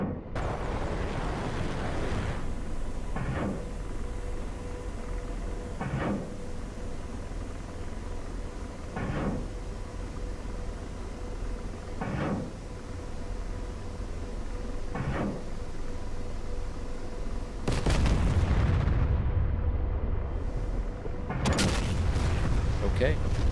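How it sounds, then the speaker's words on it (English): An Apache helicopter launches missiles in a combat simulator, producing a steady run of evenly spaced dull booms every few seconds over a constant rotor and cockpit hum, then louder blasts near the end. "Let's start lobbing missiles and see what happens."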